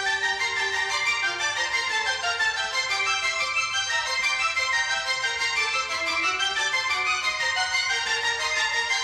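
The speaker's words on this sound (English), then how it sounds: "If we combine it with the strings, it sounds something like this" Orchestral woodwinds layered with strings in an epic film-style theme, busy rapid up-and-down figures running continuously at moderate level, dense and slightly chaotic, with no voices.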